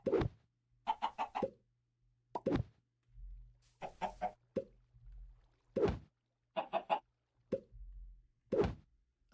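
A bone white chicken in Minecraft StoneBlock clucks in short bursts, with quick repeated clucks and soft plopping blips separated by brief silences, clear and close.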